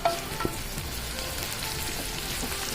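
Small anchovies stir-fried in a pan with greens, a steady close crackling sizzle with a couple of sharper pops and scrapes at the start, no talking.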